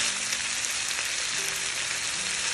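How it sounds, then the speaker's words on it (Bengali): Fish roe and capsicum fry in a pan, making a close, continuous sizzle with an even, crackling hiss throughout and no talking. "খুব অল্প আছে, ভালো করে ভেজে নিব"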